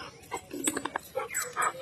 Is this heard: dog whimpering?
yes